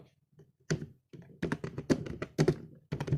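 Quiet bursts of computer keyboard typing: irregular clusters of soft clicks and thunks with short pauses between them, close by and alone.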